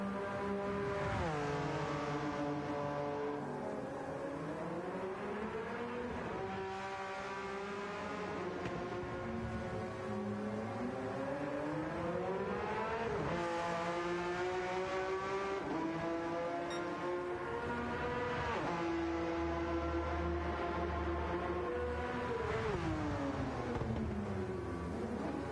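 Race car lapping a circuit at a Round 6 FTWRC event, engine tones rising and falling steadily as it works through gears and corners, a continuous loud drone running alone throughout.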